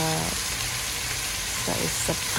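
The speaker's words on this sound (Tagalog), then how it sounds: "Gisa-gisa ko lang siya." Duck meat sautéing in a pot for a stew, a loud continuous sizzle and hiss of frying with brief scraping stir sounds near the end.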